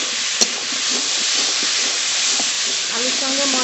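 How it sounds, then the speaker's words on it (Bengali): Fried potatoes are stirred with a cooked-down spice paste in a pan for a cabbage and katla fish head curry, producing a loud, steady sizzling hiss broken by a sharp utensil clack and light scraping. "আলুর সঙ্গে মশলা নেড়ে নিয়েছি"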